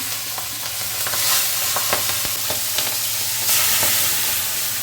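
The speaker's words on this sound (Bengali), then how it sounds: "কাঁচা লঙ্কা দিচ্ছি ফোড়নে" Green chillies crackle and sizzle as they drop into hot oil for a Bengali tempering, a steady close frying hiss with brief sharp pops and stirring scrapes, no voices.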